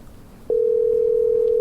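A steady electronic dial tone in the Tailor Simulator video game, heard as a telephone rings out to a customer. It starts abruptly after a brief quiet moment and holds loud and unbroken to the end.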